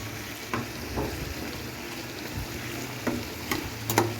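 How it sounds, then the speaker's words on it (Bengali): Vegetables with meat and shrimp sizzle quietly in a pan, a steady soft frying hiss broken by a few sharp clinks and scrapes of stirring. "আমি একটা কালো মাংস দিয়ে একটু চিংড়ি মাছ দিয়ে সবজি রান্না করছি"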